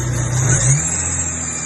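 Foxbody SVO Capri engine revs up close with the lights, blower motor and windshield wipers running, a steady loud mechanical roar that swells briefly then settles back.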